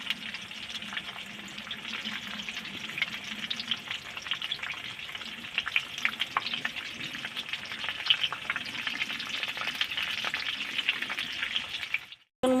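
Pumpkin-leaf rolls deep-frying in hot oil in a pan over a strong wood fire: a dense, continuous crackling sizzle with occasional spits, close and steady, stopping abruptly at the end.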